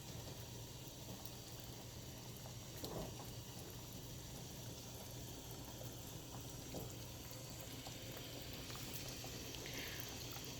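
A pot of Vietnamese pho beef broth with meat and a spice bundle gently boiling, giving a soft, steady bubbling and simmering that stays faint and even throughout with no voices.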